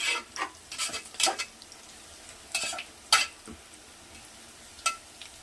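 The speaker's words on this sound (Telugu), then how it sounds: "చూడండి, ఆనియన్ బ్రౌన్ కలర్లోకి వస్తుంది." Onions fry in hot oil for mutton biryani while a spoon stirs them, making repeated scraping bursts at irregular intervals over a soft steady sizzle.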